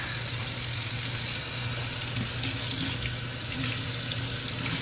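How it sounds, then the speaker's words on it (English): A kitchen knife is rinsed under a running tap, with a continuous splashing water stream close by, steady and without voices. "Let me just give it a rinse. Wash it off real quick."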